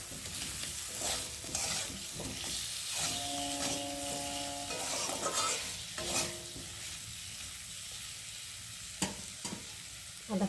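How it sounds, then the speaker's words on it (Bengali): Chopped ginger and cumin powder fry in oil with a soft, steady sizzle while a spatula scrapes and stirs the pan in bursts, and a brief mechanical hum sounds midway. "আদাটা একটু ভাজা ভাজা হয়ে যাবে"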